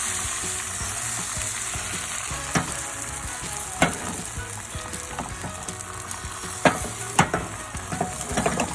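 An egg mixture with hot sauce for a breakfast taco sizzles steadily in a hot pan, with sharp scraping clicks as it is spread and stirred. Nobody speaks.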